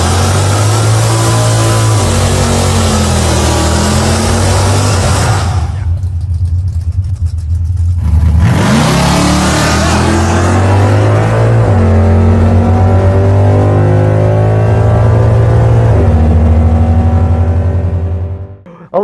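Roadkill's Crop Duster drag car launching hard down the strip, its engine roaring loud and steady with a brief gear-change lull midway before pulling strongly again, no talk over it.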